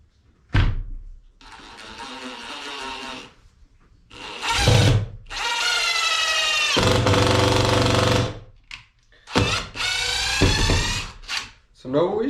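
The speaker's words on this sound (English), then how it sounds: "We're gonna do these 3-inch deck screws, speed 1, pressure treated wood." A Craftsman brushless impact driver on low speed sinks 3-inch deck screws into pressure-treated fence lumber, giving loud sustained buzzing bursts of hammering, roughly three long runs with brief pauses and a short trailing burst.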